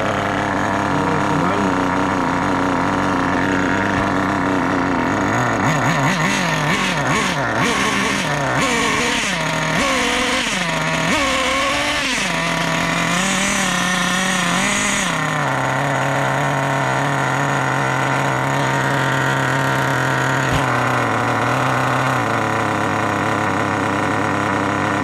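Small engine pulled into life by its cord after refuelling, a repaired car-clutch setup, settling into a steady loud idle with rising and falling revs, while a voice talks over it.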